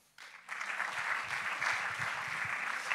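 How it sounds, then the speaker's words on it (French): Applause from an audience at a French Tech startup pitch competition, swelling in after a brief quiet start and then holding steady and full for the rest of the stretch. "On peut l'applaudir."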